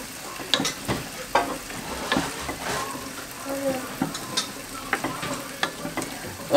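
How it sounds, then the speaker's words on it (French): Chickpeas are stirred in a pot being reheated at home, with a spoon scraping and knocking against the pot in irregular strokes over a soft sizzle, close and moderately quiet. "On mélange."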